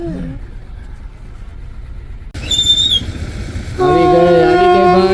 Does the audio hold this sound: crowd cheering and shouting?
no